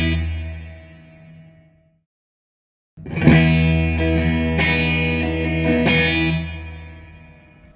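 Guitar played through the spring reverb setting of a UAFX Golden Reverberator pedal: a sustained chord fades into a brief silence, then a loud strummed chord rings out with splashy, lingering spring decay and further accents.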